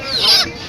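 One short, loud squawk from a fowl at a busy village market where chickens are being bought and sold, heard up close.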